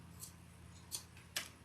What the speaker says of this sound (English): I should have gotten my sharp scissors out